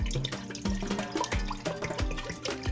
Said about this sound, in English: I'm gonna be pouring in my 5 cups of water.